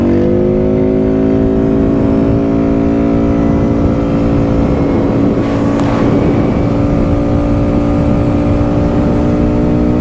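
Benda Chinchilla 350 Neo CVT motorcycle cruiser engine held at full throttle, a loud steady drone with strong harmonics and rushing wind, sustained for the whole stretch with no talk.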